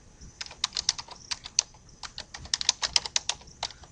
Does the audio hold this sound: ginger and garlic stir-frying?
no